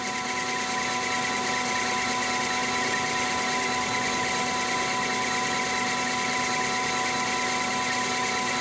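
A lathe turning heat-treated CrMo 4140 steel at 440 RPM gives a steady, even machine whir with a faint tonal hum and no talking.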